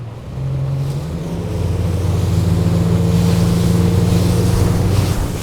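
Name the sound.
motorboat driving through following sea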